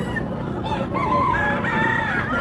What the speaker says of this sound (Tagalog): Small breed chicken.